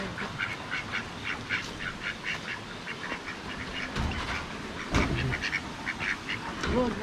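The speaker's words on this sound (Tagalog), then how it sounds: "Pato ba yan? Bibi yan?" Ducks quack repeatedly in an outdoor rural setting, with a rhythmic run of close, moderately loud calls and faint background noise.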